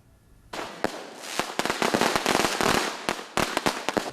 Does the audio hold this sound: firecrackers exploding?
yes